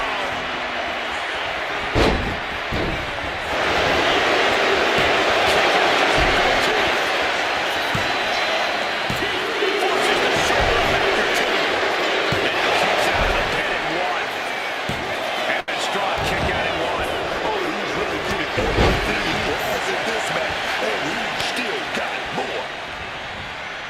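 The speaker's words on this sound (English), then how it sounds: "a live crowd doesn't get any hotter than this" A packed arena crowd at WrestleMania 33 roars steadily, a dense continuous cheer with scattered thuds and slams from the ring beneath, while commentators talk over it.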